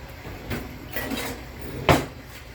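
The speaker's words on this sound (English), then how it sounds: "Bringing in the help of the old whisk" A whisk stirs flour-milk paste in a pan over low heat for country fried steak gravy: soft scraping and light metal clatter, then one sharp clink near the end.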